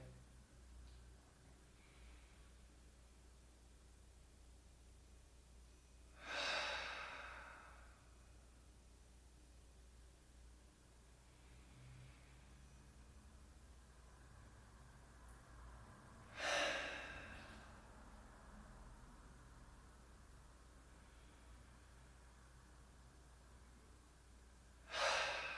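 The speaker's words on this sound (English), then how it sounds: "Let's take 5 more deep breaths together." Slow deep breaths during a yoga session, three loud breathy exhales spaced about ten seconds apart, close up over a quiet steady hiss, with no talking.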